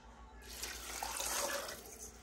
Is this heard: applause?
no